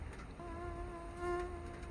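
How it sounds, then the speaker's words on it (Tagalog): Several mosquitoes whine in a steady, high-pitched buzz during the rainy season, with a faint drone that swells briefly toward the end, alone with no talking. "Alam mo, ang daming lamok dito sa amin."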